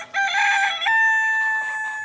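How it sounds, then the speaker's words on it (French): A rooster crows at dawn, one loud, drawn-out cock-a-doodle-doo close by that rises, holds, then trails off, with no talking over it. "Au chant du coq"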